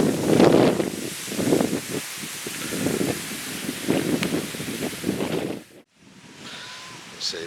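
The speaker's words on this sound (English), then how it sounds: "we're getting a bit of wind, and the shade tents are handling it rather well, fluttering in the wind but not going anywhere" Wind gusts blow across a farm where shade tents flutter and flap, giving a steady whooshing roar with rustling surges, a brief drop near the end, then a quieter breeze.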